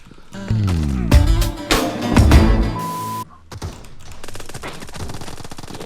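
Rapid automatic gunfire from the mobile shooter game PUBG Mobile rattles out in loud, dense bursts, followed by a sparser stretch of shots, with an excited voice heard alongside.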